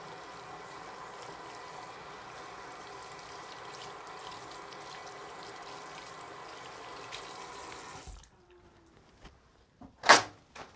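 Tap water runs steadily into a sink as hands are rinsed, a constant close hiss that cuts off abruptly, followed by a few faint clicks and one sharp louder knock.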